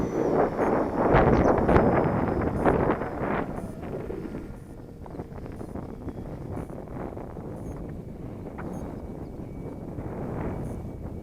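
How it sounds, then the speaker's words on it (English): Wind gusting across an open RC plane flying field, buffeting the microphone loudly at first and then easing into a steadier low rush. "now my wind is coming up"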